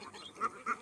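Ducks released to forage freely in a harvested rice field give a couple of short, fairly faint quacks, one near the middle and another just after, with quiet outdoor background between them.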